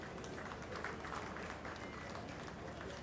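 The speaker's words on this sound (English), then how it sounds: "They deserve a big round of applause." An audience at a Rotary district governor installation claps in a steady wash of applause, with crowd noise and faint voices mixed in.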